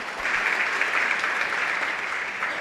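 A church congregation claps together at a Baptist church's fifth-anniversary service, steady dense applause filling the room with no pauses, heard close and fairly loud throughout.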